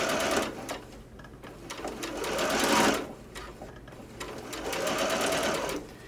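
A sewing machine stitches a curved hem close up, its rapid mechanical whirring rising and falling in two long bursts with a short pause between them.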